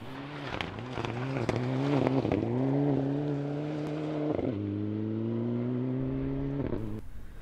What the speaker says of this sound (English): Class winners Ali Graham and Laura Stewart in their similar Evo 9.